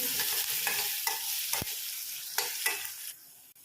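Finely cut curry leaves dropped into hot oil for a tempering: a steady, close, loud sizzle and crackle of frying runs throughout with a few sharper pops, alone without speech.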